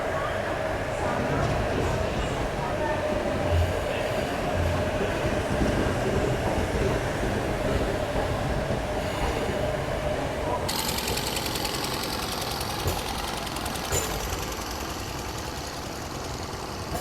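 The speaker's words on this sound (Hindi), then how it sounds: "3:50 पे अपनी ट्रेन का डिपार्चर हो रहा है प्रयागराज जंक्शन के प्लेटफॉर्म नंबर 6 से" Kalindi Express train pulling out of Prayagraj Junction platform, a continuous loud rumble and rattle of rolling wagons heard from on board, with a brighter metallic clatter joining later.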